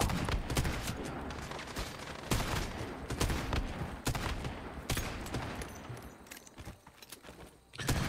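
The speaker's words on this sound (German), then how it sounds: "Ich brauch keine Drohne, die rumschießt." Rapid gunfire from an automated shooting drone in the survival video game Once Human, sharp repeated bursts and single cracks through the whole stretch over a dense background of game noise, with no one talking.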